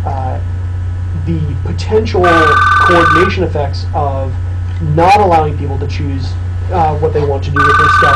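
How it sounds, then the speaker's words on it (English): An office telephone rings in repeated bursts behind a lecturer who keeps talking, the ringing clear and steady beneath his voice. "Sorry about the phone call."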